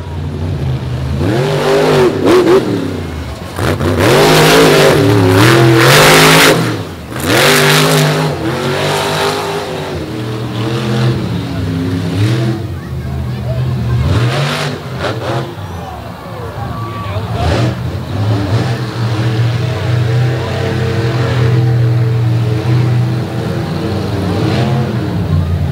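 The FTI Torque monster truck's engine revs in repeated loud bursts at a beach show, roaring and falling back to a rumbling idle, with an announcer and crowd noise underneath.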